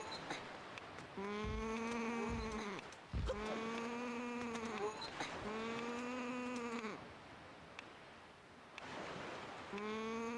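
A sheep- or goat-like creature in a Toon Link Zelda game lets out repeated wavering, nasal bleats, four drawn-out calls of a couple of seconds each separated by brief gaps, clear and up front.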